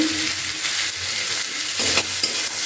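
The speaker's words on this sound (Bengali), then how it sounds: "পেঁয়াজগুলোকেও দিয়ে দিচ্ছি এদের দিয়ে খুব ভালো করে ওটাকে ভেজে নেব" Onions fry in a pan and are stirred repeatedly, a loud close sizzle with scraping strokes of a utensil, for a spinach and prawn dish that also includes radish and beans.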